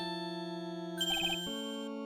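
A mobile phone ringtone plays a short electronic melody of sustained tones, with a quick bright chiming figure in the middle before the tone shifts lower and carries on, clear and alone.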